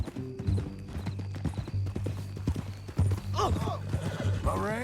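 Horse hooves clip-clop steadily at a walk in the Western video game Red Dead Redemption 2, with a horse neighing and whinnying near the end, heard under ongoing dialogue between characters.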